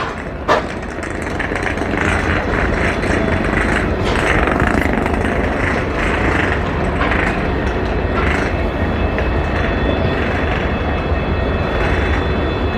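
The 13176 Kanchanjunga Express, a long passenger train, rolls along with a steady, loud rumble and rattle of coaches that holds for the whole stretch, marked by a few brief clanks near the start.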